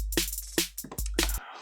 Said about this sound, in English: this is a small trap beat that I did before.